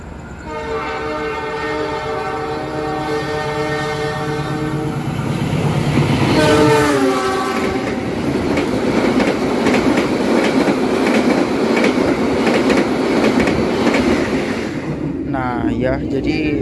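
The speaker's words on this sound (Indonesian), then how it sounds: "di stasiun Caruban ini akan disusul dengan kereta api Gajayana" A train horn blares, then a passenger train rumbles steadily through Caruban station in Indonesia with rhythmic clacking wheels, loud and close, and people talk faintly underneath.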